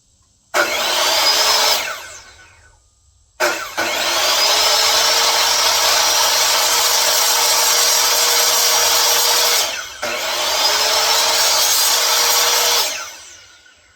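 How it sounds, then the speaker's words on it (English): A power sander works wood in three bursts, a short pass, a long sustained run and a final stretch, each starting abruptly and winding down, loud and close with no talk. "I'm going to be doing some sanding."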